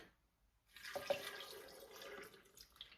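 Milk pours into a Ninja blender jar over 100 grams of frozen fruit for a strawberry banana protein smoothie: a close, steady liquid splash that starts after a brief silence and keeps going for about two seconds, with no talking.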